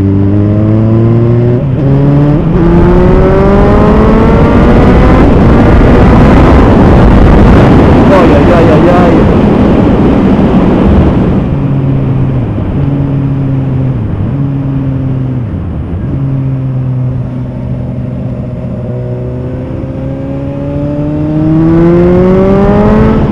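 Suzuki GSR 750 motorcycle fitted with a -1 front sprocket and +3 rear sprocket, engine pulling hard through rising revs, easing back around mid-clip, then climbing again, loud and close with heavy wind rush and no speech.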